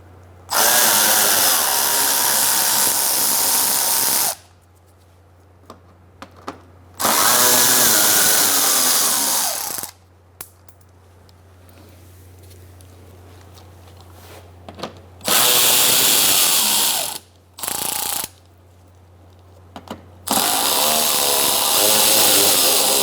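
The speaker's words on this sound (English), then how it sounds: "Using an 8mm socket, we're going to take out these bolts." A power drill with an 8mm socket removes splash shield bolts on a 2004-2009 Mazda 3, whirring loudly in five separate bursts of several seconds each, close up, with quiet pauses and faint clinks between them.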